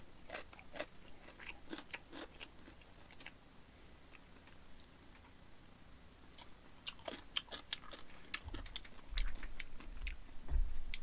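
Close, wet chewing and crunching of braised spicy chicken in a Korean mukbang, with repeated soft bites and clicks scattered across the stretch and louder crunches near the end.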